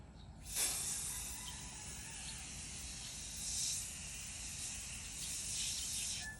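Aerosol tire foam cleaner sprays onto a minivan tire in a steady, close hiss that starts abruptly and holds with slight swells, no talking over it.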